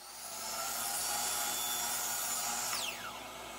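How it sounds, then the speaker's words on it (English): A power saw cuts a 45-degree miter through face frame molding for a small display box, a steady close whine holding loud for about three seconds before winding down, with no talking. "I'm going to cut a 45-degree miter on one side to get an accurate measurement"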